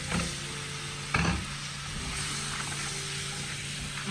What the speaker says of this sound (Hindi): इसमें हमने ये जो अंडे हैं ये फ्राई करने हैं